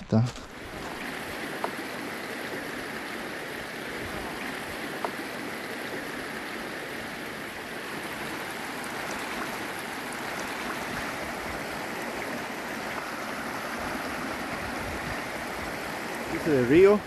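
A river runs steadily as a broadband rush of flowing water during a trek through the Yungas forest near Tafí del Valle, continuous and fairly close for the whole stretch, with a few brief knocks near the start and end.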